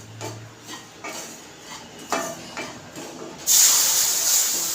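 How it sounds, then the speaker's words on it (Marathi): Milk poured into a pan of roasting semolina and grated coconut, soft stirring scrapes first, then a sudden loud hissing sizzle as the liquid hits the hot pan. "ह्या स्टेजला मी आता ह्याच्यामध्ये दूध घालते"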